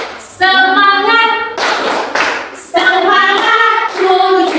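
A classroom group performs a rhythmic 'tepuk semangat' clap routine during a Catholic religion lesson, sharp bursts of clapping landing between loud group singing or chanting voices.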